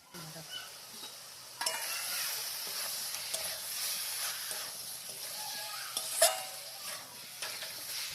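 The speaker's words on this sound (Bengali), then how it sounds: "এবার ভেজে রাখা আলুগুলো দিয়ে দিব।" Fried potatoes stirred into spice masala sizzling in oil with cardamom, cinnamon and bay leaf, a steady frying hiss with repeated scraping stir strokes from about 1.6 seconds on, plus a sharp clink near 6 seconds.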